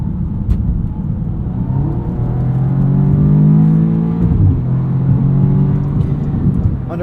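A 2016 Audi S3 sedan's turbocharged engine accelerates from inside the cabin, a rising, smooth drone with faint whir that climbs through gears over steady road rumble.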